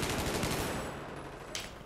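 Rapid bursts of enemy automatic gunfire in Battlefield 4 crackle for most of the moment, fading toward the end before one more sharp shot, moderately distant and with no talk over it.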